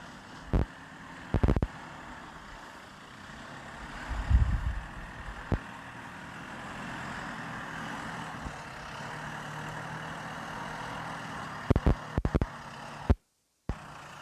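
A backhoe's diesel engine runs steadily at a low rumble as the machine repositions, with a few louder clunks and mechanical knocks scattered through.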